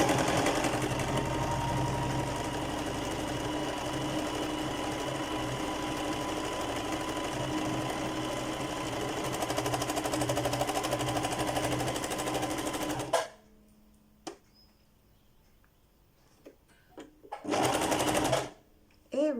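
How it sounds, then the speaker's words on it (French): A domestic sewing machine stitches steadily for about thirteen seconds, a loud continuous motor whir with rapid needle chatter, then stops; after a near-silent pause it runs again in a short burst. "Voilà pourquoi cette machine à coudre me stresse."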